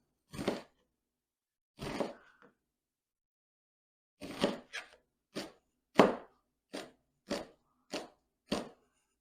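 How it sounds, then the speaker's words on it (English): A knife chops an onion sharply against a cutting board, a few scattered cuts and then a steady run of evenly spaced chops, close and distinct with silence between them. "I'll finish chopping this up."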